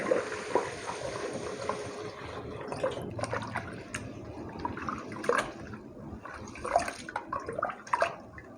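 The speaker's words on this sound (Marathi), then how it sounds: "आता हे पाणी ओतून घेते मी" Water splashes and sloshes in uneven bursts, with small drips and clinks, as rinse water is poured off lentils in a container at close range.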